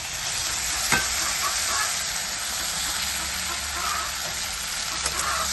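Chopped green chilli and tomato stirred in hot oil for a fish curry with radish and potato, a loud, dense continuous sizzle close up with a sharp utensil knock near the start.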